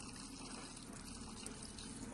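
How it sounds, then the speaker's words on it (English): Water poured into a frog enclosure outdoors, a steady broadband splashing and trickling that runs continuously and fairly close for the whole stretch. "Let's put a little bit of water in there so it's nice for him."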